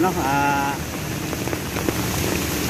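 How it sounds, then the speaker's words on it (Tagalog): Rain pours steadily with a dense patter on surfaces, and a voice briefly sounds at the start. "malakas po ang ulan, saka baha."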